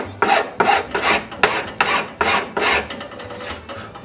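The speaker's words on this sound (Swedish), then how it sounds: "När jag filar nu så håller jag där och där." A hand file rasps against the edges of a small wooden cabinet in eight steady, evenly spaced strokes, each a loud close scraping burst, with no talking.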